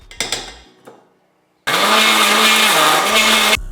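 A kitchen grinder runs hard on a load of pitted dates for about two seconds, turning them into paste. It is loud and steady, with a few light clatters just before it starts.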